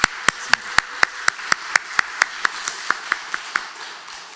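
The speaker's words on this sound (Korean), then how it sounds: "우리 성가대를 위해서 한번 우리 박수해 주시면 고맙겠습니다" A church congregation gives a short, steady round of clapping for the choir, about sixteen evenly spaced sharp claps ringing in a reverberant sanctuary, with no voices over them.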